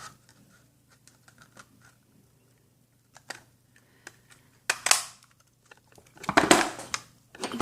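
A 2.5 inch circle punch works through paper, giving a few soft clicks and then two loud crunching presses near the end, each close and brief.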